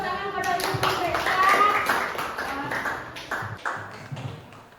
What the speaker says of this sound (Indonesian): berikan tepuk tangan pada Ibu BK.